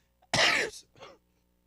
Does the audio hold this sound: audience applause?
no